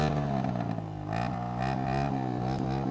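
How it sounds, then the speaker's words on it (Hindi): Motorcycle engine running steadily up close, a continuous loud throbbing drone with slight shifts in pitch, with no voices. "और सुनो साउंड मेरे बाइक की,"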